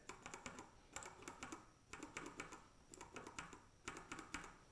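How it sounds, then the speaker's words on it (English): Typing on a mechanical keyboard with Cherry MX Red linear switches: light, quick keystrokes patter in short bursts separated by brief pauses, close and fairly quiet with no talking. "So let's go ahead and do the sound test for the Cherry MX Red."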